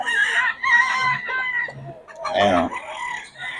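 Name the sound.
roosters crowing at poultry market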